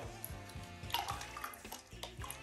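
Warm water poured into a container to soak plaster for a craft project, a soft continuous splashing and trickling at close range with no talk.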